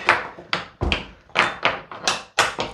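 A very old, painted wooden door in a roughly 200-year-old abandoned house is being shut, giving a close series of knocking thuds, creaks and rattles, about seven or eight irregular bumps with one heavier low thump.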